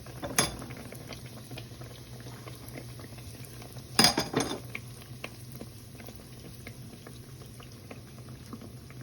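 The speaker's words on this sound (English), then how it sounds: "I like frying 3 at a time so the pot is not crowded" Steady bubbling sizzle of bake dough frying three at a time in a pot of oil, with a couple of sharper clinks and bursts partway through; no voices.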